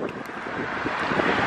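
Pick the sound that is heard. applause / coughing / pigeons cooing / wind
wind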